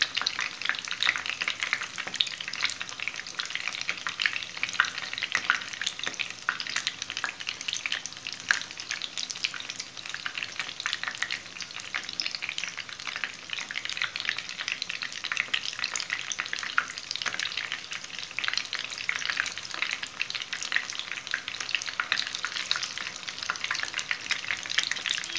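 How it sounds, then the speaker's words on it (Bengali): Pieces of food frying in a pan crackle and sizzle steadily, with the scrape and shuffle of being turned over repeatedly so they brown evenly on all sides. "এভাবে একটু উল্টে উল্টে ভেজে দিচ্ছি যেন সব দিকে সমানভাবে ভাজা হয়"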